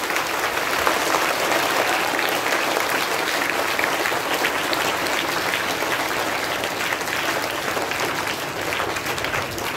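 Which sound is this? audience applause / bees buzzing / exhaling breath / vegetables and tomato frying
audience applause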